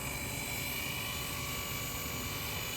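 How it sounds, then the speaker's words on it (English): A Blade 230S radio-controlled helicopter hovers and maneuvers nearby, its rotor and motor producing a continuous high whine and buzzing drone with no pauses. "what happens when I'm rotating the helicopter, I always accidentally throttle up or throttle down"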